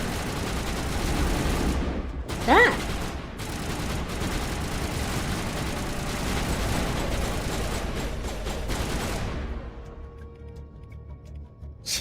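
Enemies fire a long, dense volley of rapid gunshots in the video game Mass Effect 1, with one heavier impact early on, before the shooting thins out and fades.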